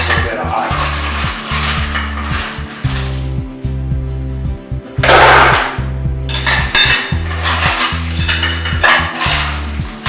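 Ice is tipped into a Vitamix blender jar for a smoothie, giving repeated hard clattering knocks and rattles in bursts over about ten seconds, with a brief louder crash in the middle.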